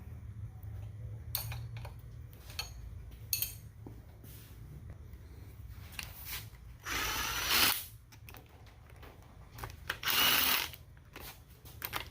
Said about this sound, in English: I'll just go ahead and break them loose with this wrench.